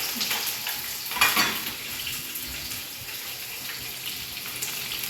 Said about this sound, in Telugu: పచ్చిమిరపకాయ, ఇది కొంచెం దోరగా వేసుకుంటాను అన్నమాట